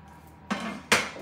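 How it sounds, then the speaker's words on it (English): A knife roughly chops vegetables and onion on a cutting board for chicken tinga tacos, giving two sharp, close chopping knocks a moment apart. "I'm just kind of chopping up the vegetables roughly"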